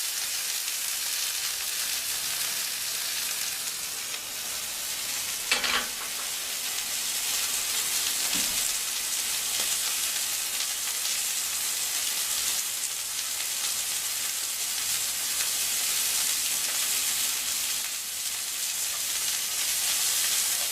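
Kangaroo fillet searing in a hot pan, a steady even sizzle and hiss throughout, with a couple of faint knocks partway through.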